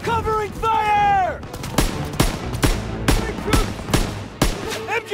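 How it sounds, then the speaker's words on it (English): Gunfire in Call of Duty: WWII as squadmates lay covering fire on a WWII machine-gun nest: repeated loud, sharp rifle and automatic shots at uneven intervals. Shouted soldier voices and whistling tones open the scene before the shooting builds. "Covering fire on the MG!"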